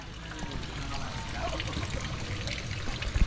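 Hot water trickles and pours over frozen calamansi in a home kitchen, a steady dribbling stream running for a few seconds with faint background voices.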